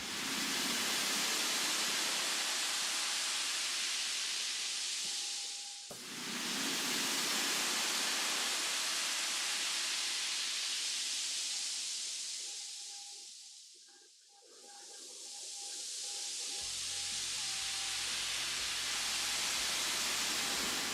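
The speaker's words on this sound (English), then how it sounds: "Oh, ocean waves." A looping ocean waves effect in a game engine, a broad, steady rushing hiss that swells and fades in long surges, loud and continuous with no talk.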